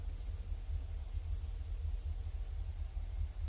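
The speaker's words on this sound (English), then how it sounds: "It's a train just sitting there on the tracks getting ready to take off." A train sits idling on the tracks, giving off a steady, continuous low rumbling hum in the distance. The level stays even and constant throughout, with no talking over it.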